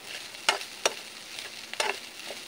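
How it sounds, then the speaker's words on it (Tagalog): Ground meat and hotdog sauté in a pan, a faint steady sizzle broken by several crisp scrapes and clacks of a utensil stirring. "Habang nagigisa ako ng giniling, saka ng ating hotdog"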